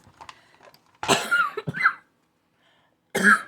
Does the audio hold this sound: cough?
yes